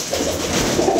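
Soft, low cooing of pigeons close by, a steady murmuring warble with no one speaking.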